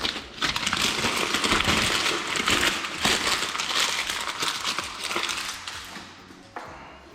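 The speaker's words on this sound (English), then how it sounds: "it's so satisfying to peel the wrap" Close, continuous crinkling and crackling of plastic wrap being peeled off an iPad Air Starlight Edition box, with steady rustling throughout that tapers near the end.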